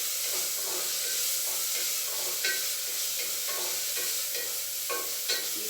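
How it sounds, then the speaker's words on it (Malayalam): Ginger, green chili and garlic fry in a pan with a constant loud hiss and sizzle, broken by occasional spatula scrapes as they are stirred. "ഇഞ്ചിയും പച്ചമുളകും വെളുത്തുള്ളി അതിൻ്റെ ഒരു പച്ച ചുവ മാറുന്നത് വരെ നമുക്കത് ഇളക്കി കൊടുക്കണം"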